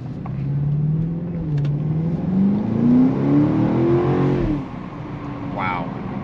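A BMW X5M performance SUV accelerates, its engine note rising steadily in pitch over several seconds before easing off, heard from inside the cabin as a close, moderately loud drone.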